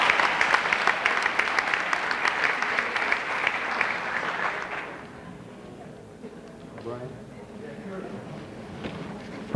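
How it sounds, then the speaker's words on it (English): Audience applause at a 1991 school awards ceremony, a full burst of clapping for about five seconds that stops abruptly, followed by quieter room noise and a voice speaking. "Again, a hand of applause, please."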